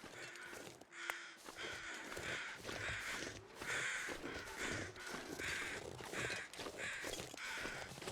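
Carrion crows in The Long Dark give repeated harsh caws in an uneven rhythm, each call a short raspy burst. The calls are fairly quiet and spread over a soft outdoor background.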